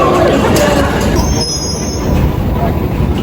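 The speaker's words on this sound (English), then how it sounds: "This is the train to World Trade Center." A New York subway train bound for World Trade Center, its wheels squealing in a high, sustained screech over a loud rumbling roar, heard from close by on board.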